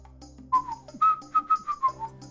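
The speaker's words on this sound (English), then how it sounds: "Oh, oops, I'm whistling." A person whistles a short, wavering tune of several clear notes close by, with no talking.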